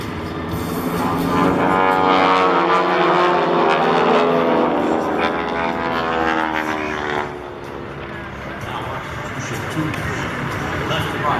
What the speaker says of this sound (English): Hermoso el P-40.